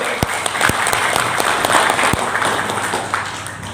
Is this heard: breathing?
no